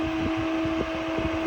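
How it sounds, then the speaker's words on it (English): A vintage Kenmore electric heater runs in fan mode, its fan spinning at high speed with a steady, close whirring drone and a constant hum, no voices. "This thing spins at a pretty high RPM on fan mode"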